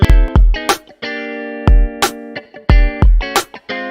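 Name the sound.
drum loop through TCS-68 cassette tape channel plugin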